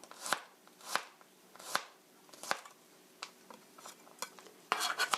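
Knife slicing and mincing two garlic cloves on a board, with several distinct close chops spaced unevenly and then a quick flurry of rapid cuts at the end, with no talk.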